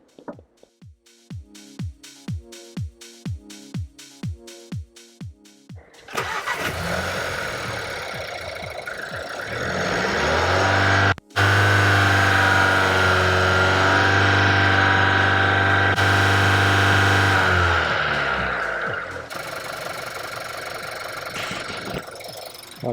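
A car engine cranks with rhythmic starter pulses, catches, and then roars steadily at a held 2500–3000 rpm. The sound cuts out for a moment midway and then carries on loud and even before easing slightly.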